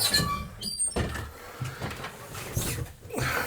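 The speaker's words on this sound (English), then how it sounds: "Let me go and close my door up here." A school bus door is pulled shut with a metallic squeak, followed by clunks and rattles of the door mechanism at close range.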